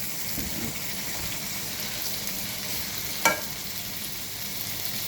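Chopped tomatoes, two of them, sizzling in a pan with sautéed onion, garlic and a little cumin, a steady close hiss of frying with one brief sharp utensil clink midway.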